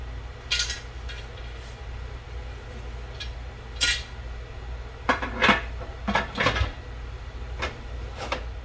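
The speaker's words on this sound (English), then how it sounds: "my stove is on, so we're going to put the lid on" A lid is set onto a full canner of quart jars of chili base on a stove, with clinks and clanks of metal, a cluster of clattering knocks midway, over a low steady hum.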